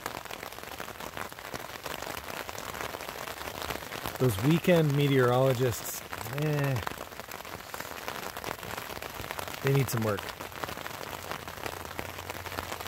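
Steady rain patters on a tent overhead, a constant hiss throughout, while someone talks over it.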